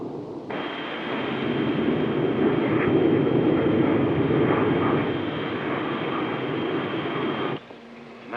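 Engines of a B-52 in flight carrying the X-15 rocket plane give a steady, loud, broadband roar that holds for several seconds before dropping off abruptly near the end.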